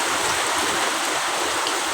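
Heavy rain and floodwater rushing across a courtyard like a canal, heard as a steady, dense, close roar of pouring and flowing water with no pauses and no voices.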